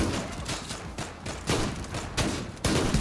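Rapid, dense bursts of gunfire in the online shooter game Zula crackle almost without pause, loud and steady, with heavier volleys breaking through the constant shooting.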